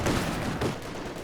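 MG34 machine gun fire crackles through a World War II strategy game battle, a dense, continuous burst of gunfire that fills the whole moment, with no voices over it.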